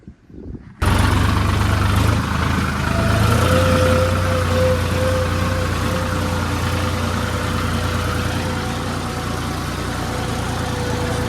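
A Massey 7250 tractor engine runs steadily and loud after a brief quiet start, a low rumbling drone with a faint whine on top, the tractor stuck in a swampy, muddy field.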